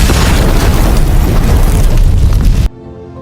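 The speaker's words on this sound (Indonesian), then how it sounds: "ledakan besar pun mengguncang gudang dan menghanguskan para kanibal di dalamnya." A huge explosion rips through a warehouse in a film scene, a loud, sustained roaring blast that cuts off abruptly near the end, leaving faint low background.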